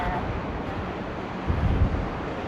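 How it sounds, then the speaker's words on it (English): Rough sea waves breaking along the coast at Seaham, a steady broadband wash of surf mixed with gusting wind buffeting the microphone, with a louder surge of water near the end. "It's certainly a rough sea though."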